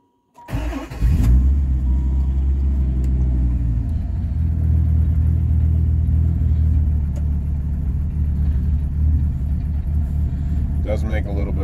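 A 1996 Dodge Viper GTS 650R cranks and fires, settling into a deep, loud rumbling idle with a rising blip of revs, close by and alone with no talk over it.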